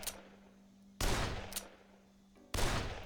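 Beefy pistol shots from a modded firearms overhaul in Dead Island Definitive Edition, two loud sharp reports about 1.5 seconds apart, each with a lingering tail, over a steady low hum.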